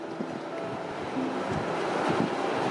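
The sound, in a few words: strong wind roaring through trees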